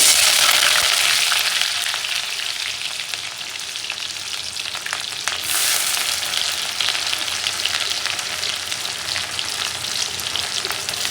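Chopped onions frying in a pan, a loud, steady, close sizzle that holds throughout with little change.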